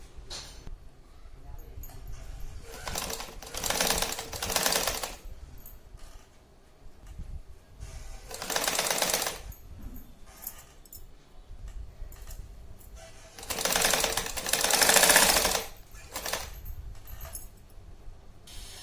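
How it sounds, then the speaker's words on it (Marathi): A sewing machine stitches along the edge of a blouse's back patch in three separate runs, each a few seconds of steady mechanical whirring, with quieter handling noise between them. "इथून किनारीनं शिलाई घेऊन घ्यायची"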